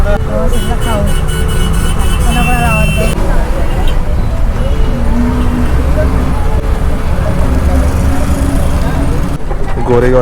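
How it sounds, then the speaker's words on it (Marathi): A Maharashtra State Transport bus rolls into the Goregaon bus stand on the Panvel to Dapoli route, its engine droning under constant road noise, with crowd babble and voices calling out throughout. "गाडी पोहोचते आता"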